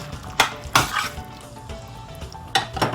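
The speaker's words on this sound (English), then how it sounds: "Now it's time to add our black beans. And we're just going to stir that all up" Black beans being stirred in a pot, a few sharp spoon clinks against the metal rim over a soft wet shuffle, quiet and close.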